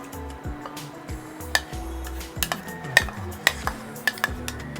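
About 250 grams of shredded carrot going into a cooking pot as a layer for carrot halwa, with close, irregular scraping and metallic clinks of a spoon against the pot and no talking.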